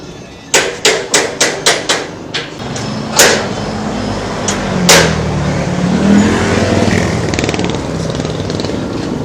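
A hammer strikes metal during a welding repair. A fast run of about seven ringing blows comes first, then a few spaced strikes, over steady mechanical engine-like noise.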